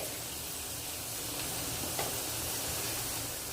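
Potato pieces fry in a pan for chicken kosha, a continuous soft sizzle with light stirring and a faint scrape partway through, no voices present.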